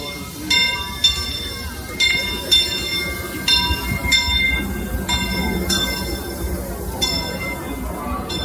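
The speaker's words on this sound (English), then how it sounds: "We have opted for the railroad." A Disneyland railroad train rolls along with a steady rumble while a bright bell dings repeatedly at uneven intervals, close by and fairly loud.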